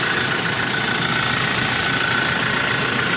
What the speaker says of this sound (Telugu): ఇంజన్ సౌండ్ మంచి బీటింగ్ ఉంటుందండి